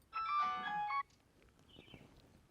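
A mobile phone ringtone plays a bright melodic tone for about a second, then stops, leaving quiet room noise with faint movement.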